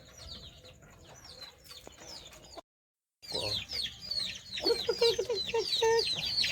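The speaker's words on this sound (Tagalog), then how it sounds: "Mga manok." Chickens cluck and chirp nearby in short bursts, with ducks nearby, and a brief gap of silence midway before the clucking resumes more busily.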